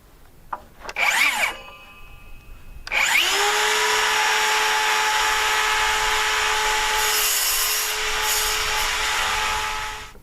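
Power saw cutting a wooden board for cabin wall framing: a brief buzz first, then the blade spins up and cuts steadily and loudly for about seven seconds before winding down.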